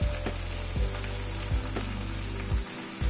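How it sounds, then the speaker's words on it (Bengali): Tamarind pulp hitting a hot pan of mustard-seasoned vegetable curry for roti, giving a steady close sizzle with a few soft stirring bumps and no talking. "এবার তেঁতুলের পাল্প দিচ্ছি।"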